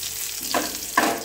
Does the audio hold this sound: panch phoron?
yes